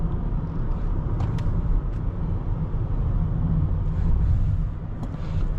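Low engine rumble and road noise fill the cabin of a 2017 Lexus ES 350 with a 6-speed automatic as it accelerates, a steady deep drone that swells slightly near the end.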